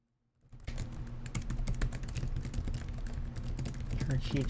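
Rapid, continuous typing on a ThinkPad laptop keyboard during a typing race, dense clicking keystrokes that start after a brief silence and carry on steadily and close.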